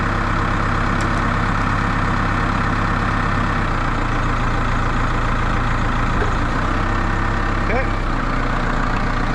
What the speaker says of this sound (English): I'll show you here just how good a telehandler is at moving logs.